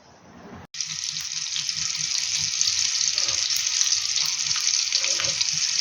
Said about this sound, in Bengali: বাটার আর তেল অ্যাড করে ফ্রাইং প্যানটা গরম হওয়ার পরে কাবাবগুলো ছেড়ে দিয়েছি